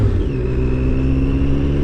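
A Triumph Daytona T595 motorcycle engine pulling under acceleration, a loud steady rumbling drone with rising tonal whine, heard close throughout with no talk.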